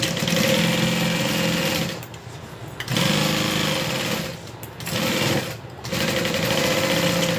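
Sewing machine stitching fabric while making a Colette garment: a loud, fast, steady mechanical whirring of the needle, running in three bursts with brief pauses between them.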